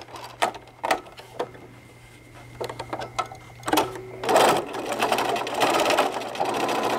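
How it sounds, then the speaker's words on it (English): A sewing machine backstitches a seam on a small fabric travel tissue holder with a pocket: a few short, clattering stitch bursts, then a longer continuous whirring run, close and clear without talk. "I'm going to backstitch now."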